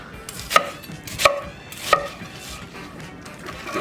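A knife chops through onions on a cutting board for beef stock, three crisp, separate thwacks about two-thirds of a second apart, close and alone over quiet room noise.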